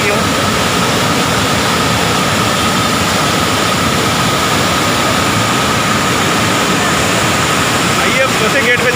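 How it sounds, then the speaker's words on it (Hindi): Water rushes out through an open dam gate of Fatehsagar lake in Udaipur, a loud, dense, unbroken roar filling the whole stretch without pause. "पानी देखिए आप जाता हुआ दिखाई दे रहा है, सीधा ये उदय सागर की ओर।"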